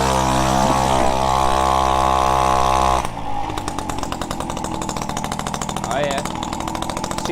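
Peugeot 103 RCX moped with a Dellorto SHA 15 15 carburetor, warmed-up two-stroke engine idling loud and close, then revving and pulling away with a rapid buzzing rasp on an off-road track.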